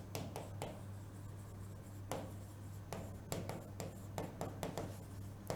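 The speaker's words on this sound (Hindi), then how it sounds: "हम लिखेंगे यहां पे मोस्ट कॉमन" Writing on a board during a medical lecture about malaria: a series of quick scratchy strokes and taps, close and fairly quiet, in an irregular rhythm with pauses between bursts.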